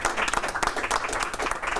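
A round of applause at a City of Albuquerque news conference, a small group clapping steadily and fairly close for a couple of seconds, with no talk over it.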